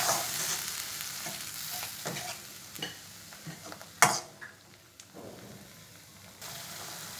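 Cashew-poppy seed paste masala with a splash of water cooks in a pan for potol korma, a soft sizzle under repeated spatula scrapes and clacks, one sharp knock standing out midway.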